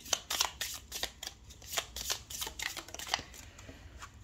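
A deck of oracle cards being shuffled for a tarot-style reading, with a run of quick papery riffles and flicks that repeat steadily and sound close and fairly quiet, and no voice over them.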